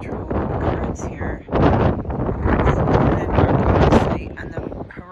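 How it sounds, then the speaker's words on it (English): Strong wind buffets the microphone at the Cliffs of Moher in Ireland, a loud, continuous roar under overcast skies with gusts swelling and easing throughout, while a voice talks over it. "It is so windy here."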